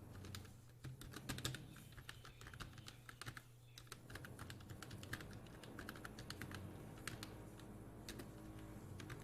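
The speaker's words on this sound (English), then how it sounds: "so let me type here" Fast typing on a computer keyboard clatters in quick, irregular bursts of sharp key clicks over a low steady hum, with no talking.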